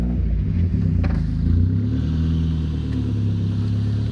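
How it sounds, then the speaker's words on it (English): Mazdaspeed Miata fitted with a Flyin Miata intake kit and a muffler delete, idling and blipped with a deep, close, steady rumble and brief rev rises. "we're just gonna start the car up real quick to give you guys a sound of what the intake sounds like."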